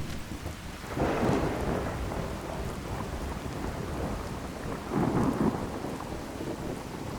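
Rain falls steadily in a thunderstorm in the Fallout 4 wasteland, with two low rumbles of thunder swelling over the constant patter, fairly faint and distant.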